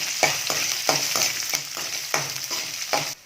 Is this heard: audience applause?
no